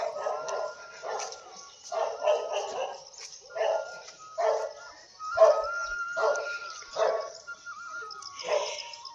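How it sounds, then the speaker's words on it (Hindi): A dog named Simmu barks in a steady run of sharp, repeated bursts, fairly close and alone, under a cloudy sky at Chandak. "सिम्मू हीरोइन बनी है अभी भौंकने में"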